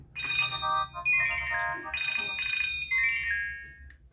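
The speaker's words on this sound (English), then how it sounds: "Who is calling this phone?" A phone ringtone plays loudly and continuously, a bright electronic melody repeating in phrases with a steady low hum underneath and no talk over it.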